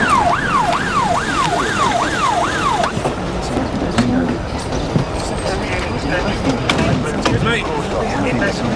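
An ambulance siren wails in rising and falling sweeps, loud and close for about three seconds, then fades into busy street noise with traffic and voices talking.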